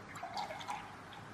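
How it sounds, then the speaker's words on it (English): Goat milk poured from a tetra pack into a glass, a faint continuous trickling and splashing of liquid that runs steadily throughout without any talk. "So I'm taking a glass and I'm gonna pour it."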